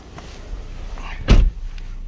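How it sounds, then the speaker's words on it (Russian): Electric folding side mirrors on a 2017 Renault Scenic 4 with a 1.5 diesel give a short motor whir of about a quarter second, with a faint click before it, against quiet car-interior background. "Зеркала складываются."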